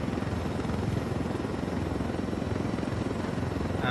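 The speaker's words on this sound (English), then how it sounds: "Actually, no, this helicopter is maneuvering." Helicopter rotor and engine drone from a video game, steady and continuous throughout as the aircraft maneuvers, with no talk over it.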